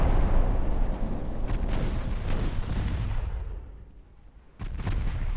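Battleship guns firing in the naval warfare game Ultimate Admiral: Dreadnoughts, a loud rolling barrage of heavy booms that dips briefly, then surges again.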